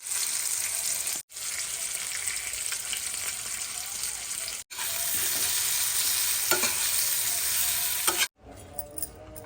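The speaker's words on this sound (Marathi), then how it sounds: "चला आता वांग्याची भाजी फोडणीला घालायची" Brinjal curry goes into a hot tempering with crushed garlic, producing a loud, continuous broadband sizzle and stirring close by, broken by two brief cuts before ending in quieter, sparse sounds.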